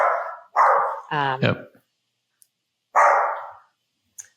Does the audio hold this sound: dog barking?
yes